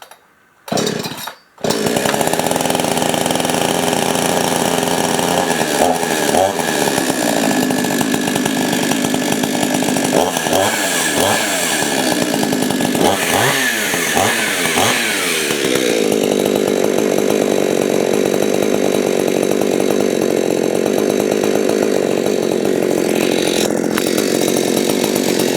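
A chainsaw with no muffler fitted, started after a couple of pulls, roars loud and raw up close, revving and dipping repeatedly before settling into a steady harsh idle for the rest of the stretch.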